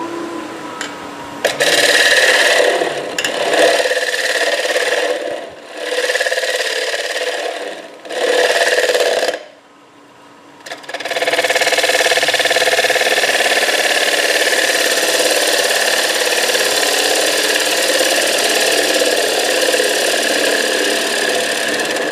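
A wood lathe turns a winged bowl, a steady motor hum under rasping, rubbing cuts from a tool, broken by short pauses and a brief drop to quiet before a long, even cut.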